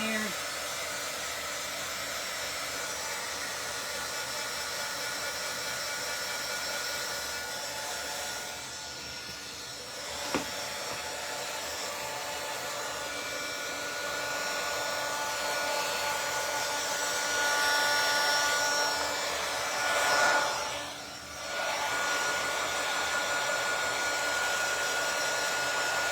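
A hair dryer runs steadily to dry ink on a chair being repurposed, a continuous close whooshing hum with brief dips and shifts in pitch as it is moved.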